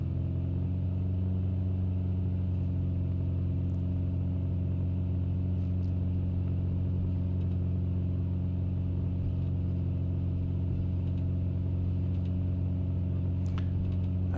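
A light aircraft engine in a flight simulator game drones at full throttle on takeoff, a steady loud low hum that holds unchanged throughout with faint clicks, no talking.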